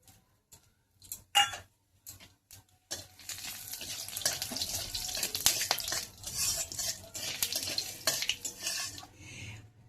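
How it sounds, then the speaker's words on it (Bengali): A few sharp clinks and taps ring out before bay leaves, dried red chillies, cumin and nigella seeds hit hot oil, followed by a dense crackling sizzle with occasional stirring clatter, close up. "এবার ফোড়ন হিসাবে আমি দিচ্ছি তেজপাতা, শুকনো লঙ্কা, গোটা জিরে আর কালো জিরে। এগুলোকে ভেজে নিচ্ছি।"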